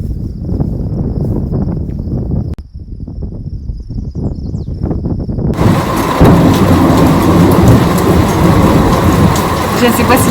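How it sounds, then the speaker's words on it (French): A thunderstorm in Charlevoix, Quebec: deep, rolling thunder rumbles for several seconds, then steady rain comes in as a dense, loud hiss, with faint insect chirping in the background. "en ce moment, il mouille à Sio, puis il y a des éclairs. Non, pas des éclairs, mais il y a du tonnerre."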